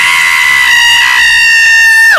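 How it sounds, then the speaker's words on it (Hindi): A loud, shrill scream used as a sound effect in a Hindi horror story, held as one sustained piercing cry that breaks and drops away at the very end. "ऋषि की चीख सुनकर रुके।"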